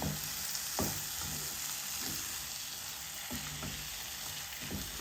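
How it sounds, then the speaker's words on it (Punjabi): Green peas fry and sizzle in spice masala in a pan, a steady loud hiss near the mic with periodic scraping stirs of a spoon through the mixture, no talking. "ਹੁਣ ਇਸ ਵਿੱਚ ਆਪਾਂ ਹਰੇ ਮਟਰ ਪਾ ਦੇਵਾਂਗੇ ਮਟਰ ਨੂੰ ਮਸਾਲੇ ਵਿੱਚ ਚੰਗੀ ਤਰ੍ਹਾਂ ਮਿਕਸ ਕਰ ਦੇਵਾਂਗੇ"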